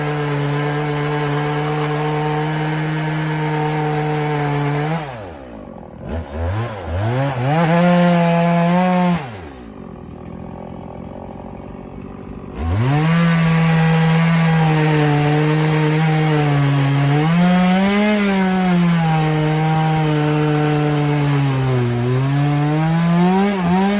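A small chainsaw cuts through a piece of wood, loud and close, its engine whine dipping in pitch as it bites and rising again between cuts, with short pauses where the engine drops back.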